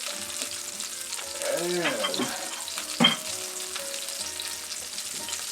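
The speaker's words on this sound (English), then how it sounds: "And this butter is getting hot back here." Butter sizzles and fries steadily in a hot pan, a continuous close crackle under a brief spoken word and a few faint clinks.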